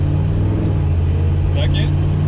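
A car accelerates under throttle with its engine droning steadily up close, while a person talks over the engine noise.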